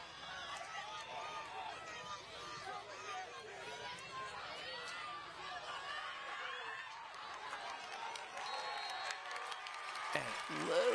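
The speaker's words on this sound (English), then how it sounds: "You can really hear the crowd in this one" Crowd noise at a high school lacrosse game between Shoreham Wading River and Comsewogue, a steady wash of cheering and chatter from the stands that swells slightly toward the end, with voices mixed in.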